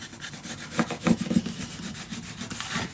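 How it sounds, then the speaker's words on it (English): A tool rubs firmly back and forth to burnish paper down on a handmade mini album, a close series of short scraping strokes that pulse irregularly over about three seconds with no talk. "And then we just can burnish everything down."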